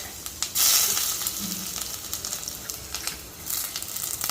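Mustard seeds, cumin, green chillies, ginger, onion, curry leaves, fenugreek and dried chillies sizzling in hot oil for tempering perugu vada, a bright crackling hiss that swells sharply, then settles into steady frying.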